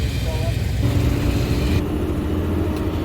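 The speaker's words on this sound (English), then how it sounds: "The grain truck hauls the corn away from the field and into town." A grain truck hauling corn away from a field rumbles steadily with a mid-pitched engine drone and broadband road noise, loud and close, the tone shifting slightly partway through as it moves along.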